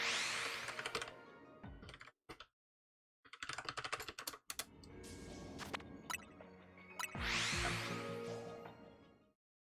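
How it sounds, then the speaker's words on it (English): Rapid computer keyboard typing in bursts broken by brief silent gaps, fairly close and steady, with no talking. "I'm bad at typing"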